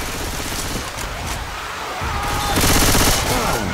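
Rapid automatic gunfire in Left 4 Dead 2 during a competitive versus match, dense and continuous, loud and close, growing heavier toward the end with faint voices underneath.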